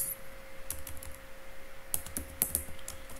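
Code being typed on a computer keyboard while building an ASP.NET MVC shopping cart: scattered clusters of crisp key clicks with pauses between them, close and fairly quiet, no talking.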